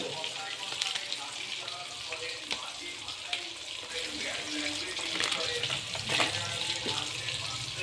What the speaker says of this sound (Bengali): একটু নেড়ে নিলাম তেলের মধ্যে দিয়ে।